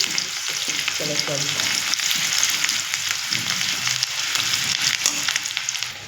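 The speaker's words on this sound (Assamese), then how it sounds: "মাছটো মই হাফ ফ্ৰাই কৰিছোঁ" Fish half-fried in a pan with tomato, peas, five-spice, green chilli and onion gives a steady, close, loud sizzle of oil with occasional stirring scrapes, no voices.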